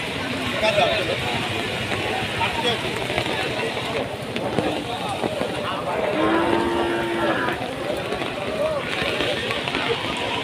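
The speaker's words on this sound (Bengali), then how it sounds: "এখানে একটা গরু দেখা যাচ্ছে" A cow at a cattle market gives a single short low moo in the middle, heard amid a crowded, noisy market background with people talking throughout.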